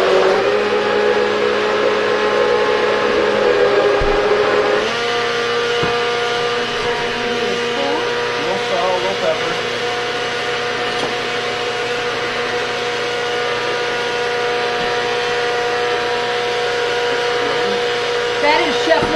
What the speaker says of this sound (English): That is Chef Larry's blender, in case you're wondering